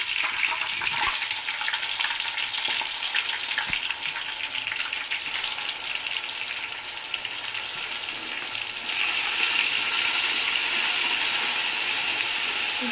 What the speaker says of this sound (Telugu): వేగిపోయినాక అల్లం వెల్లుల్లి పేస్ట్ వేసుకోవాలి